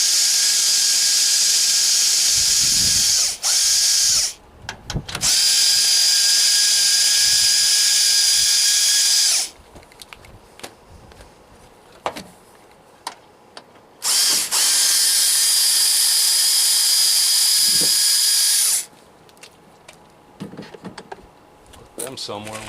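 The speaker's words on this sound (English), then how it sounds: "I'm going to use my screw gun to take these out." A cordless screw gun backs screws out of the headlight housing on a 2009 Ford F150 Lariat, sounding in three long, loud whirring bursts with short pauses between them and clicks and handling noise in the gaps.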